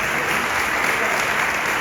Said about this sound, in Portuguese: Quantos podem aplaudir pela palavra de Deus?